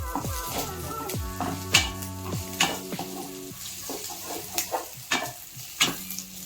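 Spices and slit green chillies fry in a pan, with close sizzling under repeated stirring and scraping, plus a few sharp clinks of a utensil against the pan.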